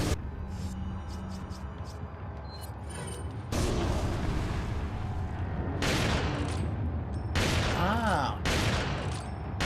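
Shotgun blasts in the Resident Evil 4 video game ring out in loud, broad bursts, several heavy booms spread over the stretch, layered with game sounds and a short vocal exclamation.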